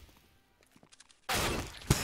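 In Counter-Strike on the map Train, near silence with a few faint ticks gives way to a sudden loud gunshot blast that rings on as a dense, sustained burst, with a second sharp hit near the end.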